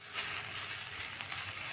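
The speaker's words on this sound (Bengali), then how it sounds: "এবার নেড়ে চেড়ে আমি 3-4 মিনিট ভালো করে ভেজে নেব।" Pointed gourd frying in a pan for a mashed bhorta, giving a steady broadband sizzle with faint stirring movement throughout, close and fairly quiet, with no talking.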